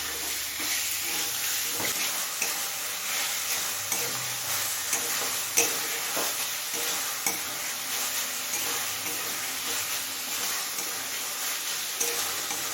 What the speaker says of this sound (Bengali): এবার কিছুক্ষণ সময় নিয়ে চিকেনটা কষিয়ে নেব।